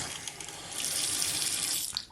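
Water runs steadily from a newly installed bathroom vanity faucet into the sink, a close, continuous hiss that swells in the middle and tapers off near the end, with no voices.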